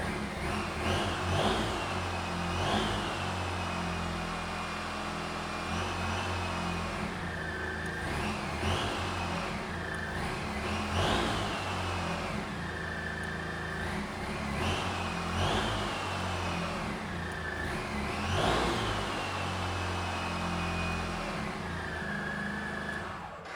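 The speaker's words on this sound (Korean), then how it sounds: "순정 머플러의 배기 사운드 한번 들어보고요" A 2017 Suzuki Burgman 650 big scooter on its stock exhaust, the engine idling and then blipped. It gives a quiet, low idle broken by several short revs that rise and fall at fairly even intervals.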